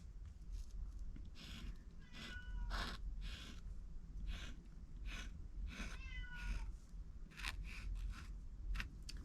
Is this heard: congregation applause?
no